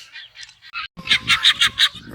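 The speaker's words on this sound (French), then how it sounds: "Voilà, là les pintades qui sont là, tranquilles." Guinea fowl on a poultry farm give a series of loud, rhythmic, harsh repeated calls, with a few softer cries before a short pause and then a steady run of about six strong calls close by.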